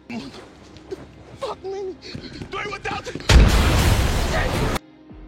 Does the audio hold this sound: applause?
no